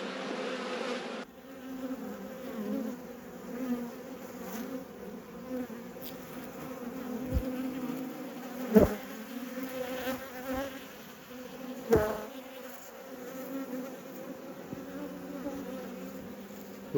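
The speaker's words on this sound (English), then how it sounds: "Look at that European wasp, he's going to pinch someone." European wasp buzzing around a beehive among many bees during a late-season hive inspection, a steady close insect drone with a few louder sharp knocks and thumps over it, no talk.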